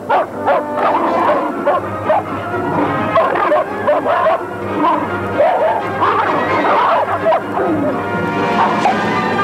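Several dogs at a restaged high-society dinner bark, yip and whimper in a dense, continuous, overlapping chorus, loud and close throughout.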